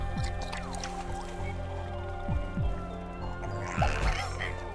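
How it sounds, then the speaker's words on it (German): Cartoonish liquid squishing and dripping as a character drinks water in the horror puzzle game Bulb Boy, with gurgly slurps and sliding drops over a steady game music bed, no talk. "Okay, hier kann er Wasser trinken."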